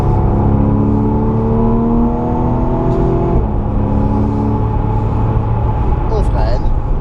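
A car accelerates at full throttle at Le Mans, heard from inside as a loud, sustained engine roar that climbs in pitch and then drops once, with faint talk briefly audible.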